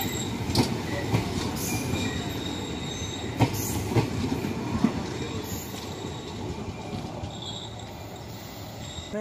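A six-coach passenger train rumbles steadily at Khaliapali railway station, with sharp metallic wheel squeals and clanks rising over the continuous rolling noise, heard from a platform and fairly close.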